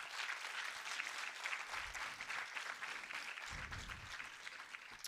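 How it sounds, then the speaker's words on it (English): A room full of conference attendees claps for a poet in sustained, even applause, moderately distant and without cheering or talk. "a round of applause to our poet"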